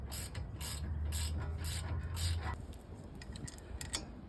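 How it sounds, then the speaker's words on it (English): A ratchet tightens the brake caliper bracket bolts on a 2007 Honda Odyssey with a series of rapid, close metallic clicks in short repeated strokes, then sparser ticks near the end. "I'm just putting the bolts in so we can get it nice and tight"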